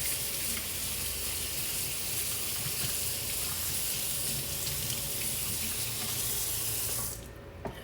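Water runs hard from a kitchen faucet over dishes being rinsed in the sink, a loud, steady splashing hiss that cuts off abruptly near the end, leaving a faint drip.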